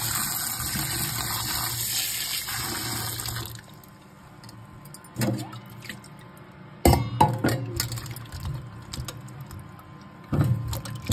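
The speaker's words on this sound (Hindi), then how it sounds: "अब मैं इसको धोऊंगी एक बार नॉर्मल पानी से, इसमें डाल देती हूँ, इसको वॉश कर लेती हूँ मैं।" Tap water runs steadily into a sink as mushrooms are washed at home, a continuous hiss for the first few seconds, then quieter with intermittent splashes, clinks and rinsing bursts.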